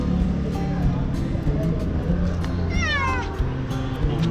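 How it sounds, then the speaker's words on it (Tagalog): A cat meows once, fairly close, a short rising-falling call at a home in the Philippines where fish are set out to dry, heard over steady background noise and low voices. "Kasi dito po sa amin ay maraming pusa."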